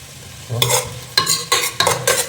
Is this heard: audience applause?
no